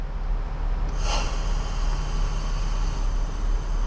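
A vehicle's suspension lowers with a sudden burst of hissing air about a second in, fading into a steady, close, broadband rush that continues to the end.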